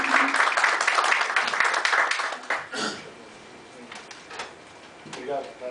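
Audience applause at a debate in a hall, a dense burst of clapping in the opening seconds that fades into scattered claps and murmuring as the room settles.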